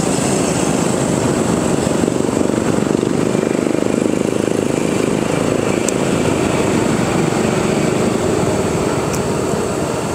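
A 5-inch FPV quadcopter drone (Speedybee Mario 5) buzzes steadily and loudly up close as it comes in to land, a constant broadband propeller whine with no talking.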